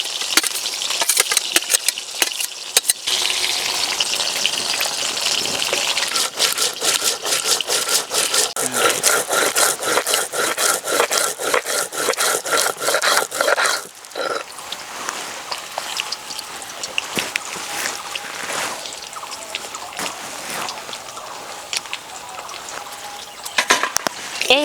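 Fried green chillies and coriander are ground into a paste with fast, rhythmic rubbing strokes that stay loud and continuous, briefly pausing midway before resuming.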